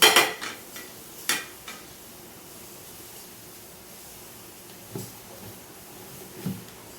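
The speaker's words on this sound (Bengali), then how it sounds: "এবার আমি একটা ফ্রাই প্যান বসিয়ে দেবো।" A metal pan clanks down onto a stovetop with a sharp knock, followed by a few lighter clinks and bumps in an otherwise quiet kitchen.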